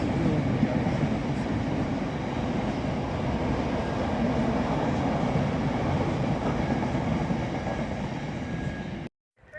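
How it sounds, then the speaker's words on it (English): An LNER Azuma express from Edinburgh Waverley to London King's Cross thundering through platform 1 at Northallerton station, a loud, close, continuous rushing roar with rail rumble that cuts off abruptly at the end. "the LNER Azumas service from Edinburgh Waverley to London King's Cross, flying through platform 1 here at Northallerton"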